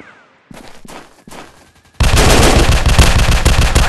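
Heavy gunfire in a commando action video game: a few separate shots, then a loud, dense, continuous barrage of rapid automatic fire that fills the second half.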